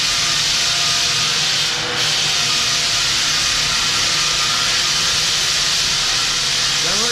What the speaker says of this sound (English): They'll probably take most of the day today sanding